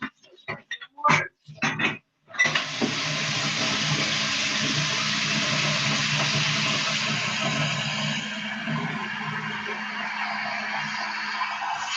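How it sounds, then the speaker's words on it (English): Water poured into a pan of browned flour while cooking gravy for a turkey dinner gives a steady, loud rushing sizzle that runs without a break for about ten seconds, after a few short clatters at the start. "So now I'm going to add water."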